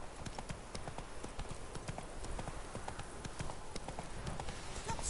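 Roach the horse galloping in The Witcher 3, steady clip-clop of hooves repeating in a quick rhythm throughout, close and even under a faint game ambience.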